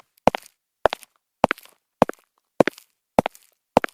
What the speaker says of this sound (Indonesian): Tiba-tiba terdengar suara langkah kaki dari loteng rumah.